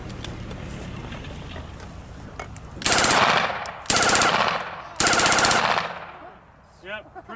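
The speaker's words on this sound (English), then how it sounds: "We got a German submachine gun, the MP-28. Real simple machine gun, 9mm. Go ahead and fire this off here for you." A German MP-28 9mm submachine gun fires three loud, close bursts of rapid automatic fire separated by short pauses, followed by metallic mechanical clicks as the firing stops.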